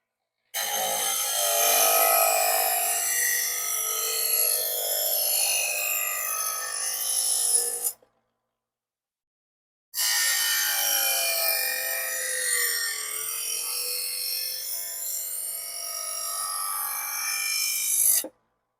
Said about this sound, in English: Most important thing about running a mechanical sharpener like this is that you keep the blade in motion.